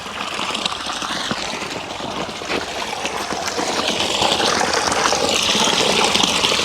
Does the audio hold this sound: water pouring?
yes